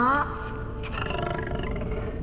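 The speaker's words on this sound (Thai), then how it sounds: "ส่งเสียงคำรามก้องฟ้า" A werewolf sound effect: a deep, growling roar that swells then trails off into a rumbling snarl, loud and close, heard alone.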